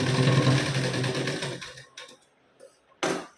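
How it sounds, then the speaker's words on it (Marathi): A domestic sewing machine backstitching to lock the sleeve seam of a blouse runs in a fast, steady whir for about a second and a half. It stops, ticks faintly a few times, then gives another short burst, close and alone. "तर इथं आपण आता मागे पुढे घेऊन लॉक करून घेऊ."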